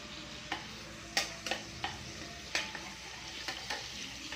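Chicken biryani ingredients sautéing in a pan toward golden brown, with a soft steady sizzle broken by several sharp scrapes and clinks as a utensil stirs, close and fairly quiet.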